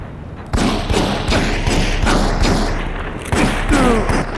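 Gunshots from the video game Gangstar IV crack out in a rapid burst of loud, thudding reports, spaced irregularly across a few seconds over a steady background hum.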